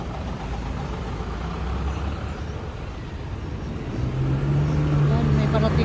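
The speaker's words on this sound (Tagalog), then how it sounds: "Malis na yung bus." A bus rumbles and pulls away on a street, a low engine drone that swells in the last seconds, with people chatting nearby.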